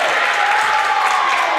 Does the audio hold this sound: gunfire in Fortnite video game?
no